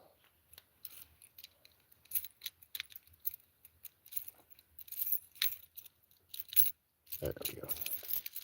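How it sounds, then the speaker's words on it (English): A lanyard of keys jangles with scattered metallic clinks and rattles while a lock is worked and double-locked, close and fairly loud, with brief speech and a louder scraping burst near the end. "And you need the key. Where's mine? Lanyard of keys."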